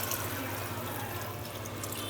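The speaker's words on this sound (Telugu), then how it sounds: "గ్లాసెస్ వాటర్ వేసి" Water pours steadily into a pot for vegetable biryani, making an even, close splashing stream with no break and no talk over it.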